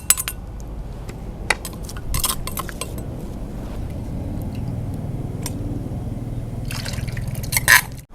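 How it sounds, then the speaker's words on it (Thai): Water trickles and splashes as something is washed during cooking in a home kitchen, with a steady wet rinse and scattered clinks and drips. The clink and splash are brighter near the end. "เอาน้ำมาล้างเลยนี่"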